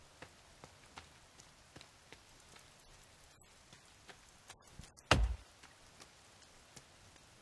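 Rain in The Forest video game falls as scattered, regularly spaced soft drops ticking on a surface, quiet overall, with one brief louder thump partway through.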